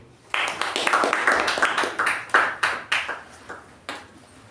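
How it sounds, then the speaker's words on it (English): A small Toastmasters meeting audience claps for an icebreaker speech, a few people's sharp, distinct claps ringing close and steady for several seconds before thinning out, with no one talking. "Round of applause for the icebreaker speech which she gave me."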